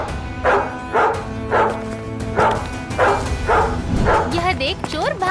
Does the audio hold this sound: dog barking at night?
yes